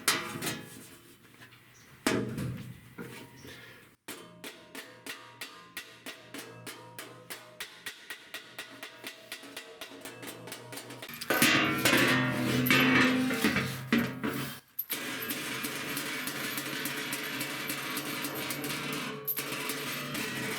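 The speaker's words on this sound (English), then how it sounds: "So if I hammer on this, it should spread out the metal and make it start bending more." Rapid metallic hammer strikes ring out in a steady rhythm, followed by louder, harsher clanging and scraping near the end.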